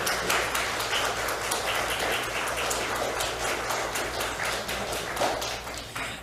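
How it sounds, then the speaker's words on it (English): Audience giving a warm round of applause for Bil and Cher Holton after their talk on affirmations, a steady wash of many hands clapping at moderate distance, sustained throughout. "give Bill and Cher a very warm round of applause and gratitude for that amazing message"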